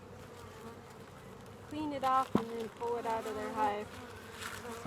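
Honeybees buzz as a steady drone around a hive opened in spring for foulbrood and mite treatment, fairly faint and close, heard under a person talking.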